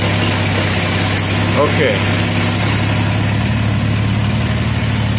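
A heavy vehicle engine idles in neutral at about 900 RPM with a fixed-pressure valve body, a loud steady low rumble throughout, with a brief word spoken over it.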